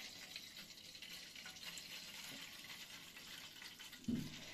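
Water is poured from a litre of soft, warm water into a container where a rotting orchid will soak; a steady, fairly quiet trickle runs throughout, with a brief louder splash near the end.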